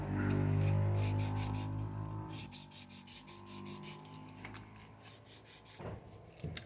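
Small deck pieces for a Titanic wreck model diorama being sanded by hand: a loud rub at first, then quick, regular back-and-forth scratching strokes close up, with no talk.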